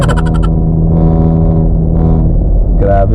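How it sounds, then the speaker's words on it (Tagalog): Loud diesel jeepney engine rumbling close by on a Manila-bound road, a steady heavy low drone with gritty exhaust roar and brief revving swells, alongside traffic that includes a full-exhaust Toyota Fortuner. "Grabe talaga yung ingay ng jeep,"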